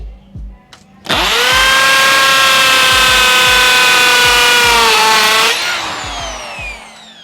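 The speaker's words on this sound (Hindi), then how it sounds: "जो कि हैमर ड्रिल होती हैं, जो कि दीवार में होल कर लेते हैं आसानी से" A hammer drill bores into a wall, starting abruptly with a loud, steady high-pitched whine that holds for about four seconds before winding down, with no talking.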